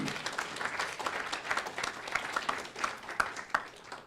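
Scattered audience applause at a lecture hall Q&A, a patter of many individual claps heard from a moderate distance, fairly quiet and uneven throughout.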